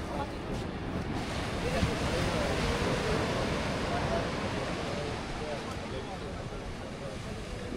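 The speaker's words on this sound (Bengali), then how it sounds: "এত বড় বড় সাগরের ভিউ, বিশাল বড় বড় একটা করে ঢেউ আসতেছে।" Big sea waves break on the beach at Cox's Bazar in the evening, a broad continuous roar of surf mixed with wind buffeting the microphone, steady and fairly loud without distinct pauses.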